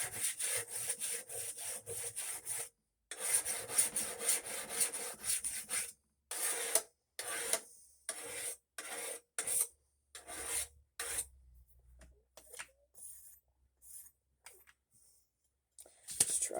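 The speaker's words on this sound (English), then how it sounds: "let's give it a couple more licks on the whetstone" A blade is worked against a whetstone in repeated rasping strokes, close and crisp, coming in quick runs at first, then spaced out with short silent gaps between them.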